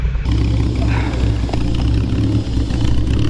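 An Aston Martin DB4 arriving, its engine a loud, close, steady rumble with a deep throbbing idle that holds throughout.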